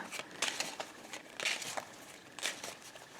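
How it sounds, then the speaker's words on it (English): Tarot cards shuffled by hand, a close papery riffling and crinkling in short bursts, quiet and repeated several times with no voice. "I'm shuffling the cards"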